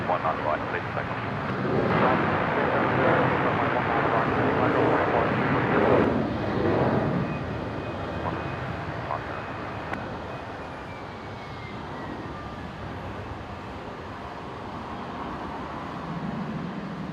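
A Fokker airliner rolls down runway 19 right at Brisbane Airport on takeoff, a loud broad jet roar heard from a distance that swells early, then fades slowly as the aircraft climbs away.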